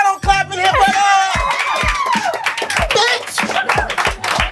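Audience clapping breaks out in a studio talk-show setting right after a live song performance, a dense burst of hand claps mixed with cheering and shouted voices throughout.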